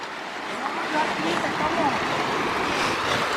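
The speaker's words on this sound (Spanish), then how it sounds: "estamos en las cascadas de Chiquilistlán, Cañón de Comala" Waterfall at the Cascadas de Comala in the Chiquilistlán canyon, Jalisco, makes a steady, loud broadband roar of rushing, falling water that holds unbroken throughout.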